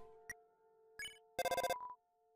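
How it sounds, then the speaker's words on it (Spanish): A phone call rings in the video game Undertale with short, chirpy electronic tones, a rapid rising trill of beeps followed by a brief tone, fairly faint. "Llamar a Toriel."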